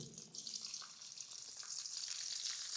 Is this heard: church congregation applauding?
no